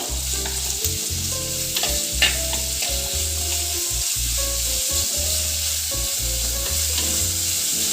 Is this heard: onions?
yes